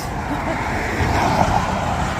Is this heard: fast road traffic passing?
yes